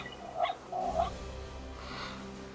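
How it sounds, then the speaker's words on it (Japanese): Two soft, faint dog barks or yelps sound in quick succession, followed by a quieter whimper, in an otherwise hushed indoor setting. "え、犬じゃない？"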